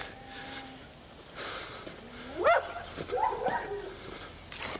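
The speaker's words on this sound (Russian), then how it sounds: "Вон она какая, собачка." A small dog behind a fence on a chain along a street in Barnaul gives a few short yips and barks at mid distance, over outdoor street ambience.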